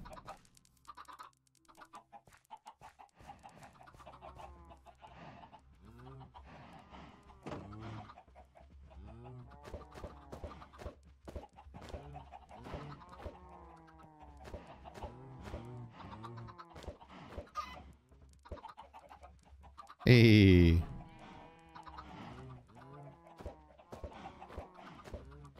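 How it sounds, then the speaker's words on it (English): Chickens and baby chicks in the Minecraft video game cluck and peep in short scattered calls beneath someone talking throughout, with one brief loud burst near the end. "More baby chickens."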